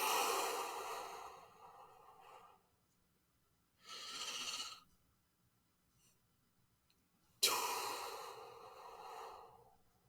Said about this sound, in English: you inhale for 4 seconds, then you hold for another 4 seconds, exhale for 4 seconds, and then hold again for 4 seconds